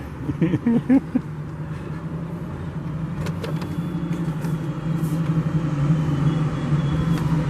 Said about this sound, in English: we have a muscle car just pulled over here